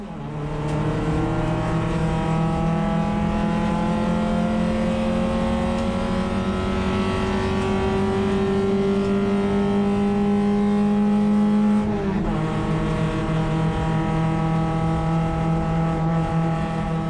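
A race car climbs the mountain section at Bathurst with a loud, close engine note that rises steadily through the gears, drops sharply at a shift, then climbs again, continuous and with no voices.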